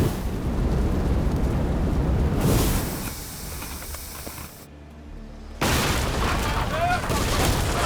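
Ship cannons firing in Assassin's Creed Odyssey: loud booming bursts fill the opening seconds and return near the end, heavy and close, with game speech around them.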